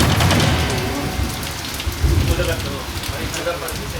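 Heavy rain pouring down during an outdoor wedding shoot, a dense, loud hiss of drops drumming on surfaces that stays steady throughout, with no voices over it.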